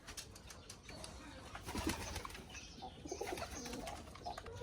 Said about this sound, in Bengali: আমাদের খামারে যতগুলা কবুতর আছে এর প্রায় বেশিরভাগ কবুতরই হচ্ছে দেশি জাতের কবুতর